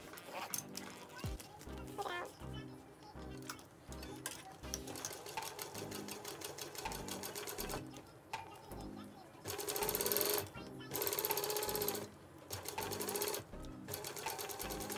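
A sewing machine back stitches a clear vinyl pouch, its rapid mechanical chattering running in repeated short bursts and one longer stretch, close and steady, with a person talking between runs.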